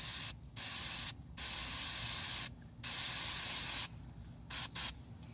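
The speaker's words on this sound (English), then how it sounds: "So we'll throw some brake clean on that and get that soaked up." Brake cleaner sprayed onto small engine parts during an oil leak repair on a Kawasaki FJ180V engine: several sharp aerosol bursts, some long and steady, then shorter quick ones, close and loud with quiet gaps between.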